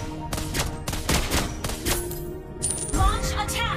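Marksman Lesley's gunfire in a mobile battle game: a dense run of sharp, rapid shots with impact thuds, loud and continuous against busy game effects.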